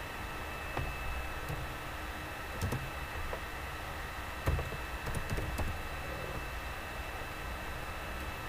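Scattered keystrokes on a computer keyboard while working in a Linux bash terminal, a few sparse faint clicks over a steady hiss of background noise.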